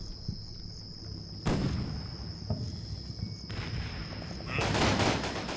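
Scouts firing rifles and small arms in the WWII strategy game Combat Mission Fire and Rubble, Berlin 1945: scattered gunfire crackles over a steady insect-like drone, swelling into a denser volley near the end.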